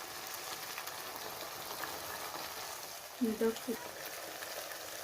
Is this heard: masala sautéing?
yes